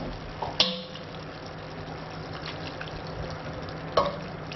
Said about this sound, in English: Now, a little water going in.